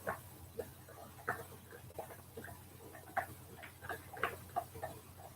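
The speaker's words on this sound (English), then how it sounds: "There's a clock right there." A clock ticks steadily near a workbench where resin is being poured over a live edge wood top, its faint, regular clicks sounding alone against a low background hum.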